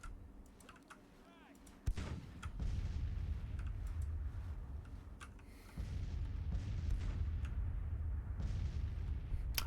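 Cannon and artillery fire in the Civil War strategy game Grand Tactician, with sharp gunshot-like reports at the two-second and near six-second marks over a dense, continuous rumble of battle noise, with faint speech.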